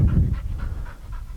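A dog pants quickly and close by, with short rhythmic breaths repeating about every quarter second for a brief moment.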